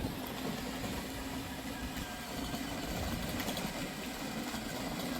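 A vehicle engine hums steadily while being driven, a low continuous drone with road noise, fairly faint and unbroken, with no voices.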